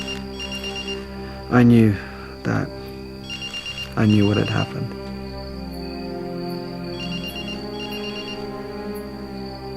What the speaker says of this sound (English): we can hear the phone ringing in the bathroom